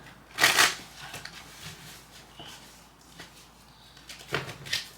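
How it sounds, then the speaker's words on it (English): Tarot cards riffle and shuffle up close with a bright crisp burst at the start, then softer rustling and sliding, and another few quick riffles near the end. "we're going to go ahead and do a quick shuffle"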